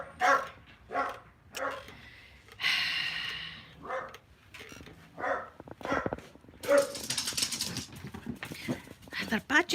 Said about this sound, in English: See, listen to them. There must be a DOG.